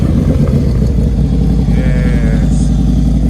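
A Harley-Davidson CVO motorcycle with a D&D exhaust rumbles loudly and steadily, its deep, dense engine tone filling the whole stretch without a break and no talking over it.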